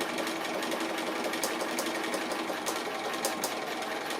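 A sewing machine stitches fabric for a kimono quilt block, running in a continuous close whir with faint rhythmic ticking and no voices.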